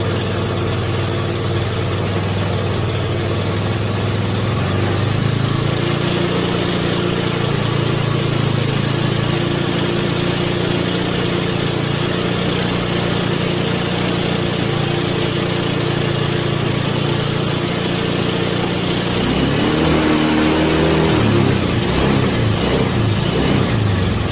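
Honda Beat scooter with a carburetor vacuum rubber fault, running steadily at idle, then briefly revved with a rising engine note near the end; close and continuous with no talk.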